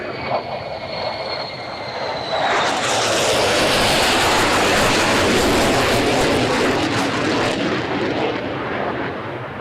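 An F-35 fighter jet flying at the Farnborough International Airshow 2024: a thin distant whine swells into a loud, broad jet roar that holds steady and close before easing slightly.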